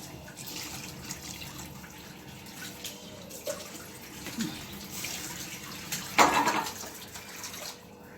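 A kitchen tap runs continuously while the flow is adjusted, a moderate, steady splash of water with small shifts in intensity and a brief louder burst near the end.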